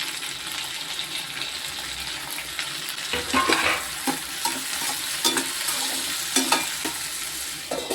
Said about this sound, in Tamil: இது கொஞ்சம் நேரம் வதங்கட்டும் தக்காளி வெங்காயம் இந்த அளவுக்கு வதங்கிக்கிட்டு இருக்குது